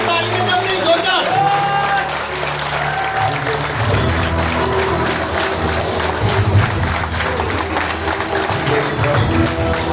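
A crowd at a training and leadership session in Khokhra, Ahmedabad keeps up loud, continuous applause for ten seconds, thick and close, with a voice and background music running beneath it.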